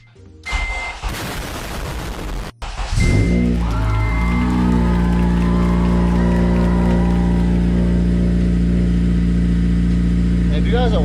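A Honda Civic fitted with a newly installed push-start button fires up after a few clunks and a brief crank, then settles into a steady, loud, close idle.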